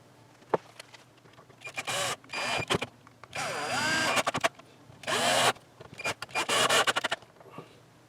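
Short bursts of a cordless power driver sinking screws into a guitar neck on a workbench, several whirring runs of a second or so with clicks and pauses between, fairly quiet and close.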